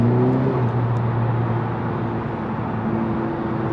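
A 2020 Honda Civic Si turbocharged engine hums steadily with a slight rise and fall in pitch, close and fairly loud, with road noise underneath and no speech.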